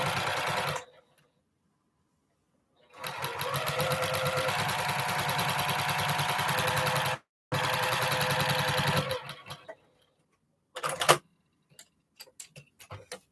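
Sewing machine stitching quilt blocks for a postage-stamp quilt, running in two long steady bursts of rapid even stitching with a short pause between, then a few brief clicks and taps as it stops; no talking.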